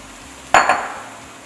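Chopped onions, celery, carrots and mushrooms drop into a hot cooking pan, two quick close clattering impacts with a brief sizzle that fades, with no talk.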